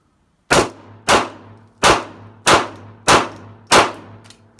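A Glock 26 pistol fires six sharp shots at a steady pace, about half a second to a second apart. Each loud crack is close and leaves a short decaying ring.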